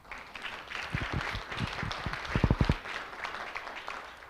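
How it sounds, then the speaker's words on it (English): A town hall meeting audience claps for themselves, sparse at first, then a short burst of sharper nearby claps before fading into quieter scattered clapping. "So give yourselves a round of applause."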